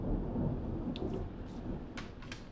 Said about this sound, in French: il y a un petit peu d'orage là